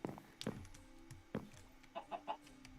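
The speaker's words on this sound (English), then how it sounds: "I do not approve of the chicken murder sounds coming from stream" Minecraft chickens cluck faintly while being killed, several short clucks and hurt squawks scattered irregularly, with a run of three quick clucks near the end.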